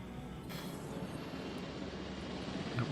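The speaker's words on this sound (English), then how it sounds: "There goes the helicopter." A helicopter flying in the video game Jurassic World Evolution, a steady droning engine and rotor rumble holding evenly for a few seconds with no talk.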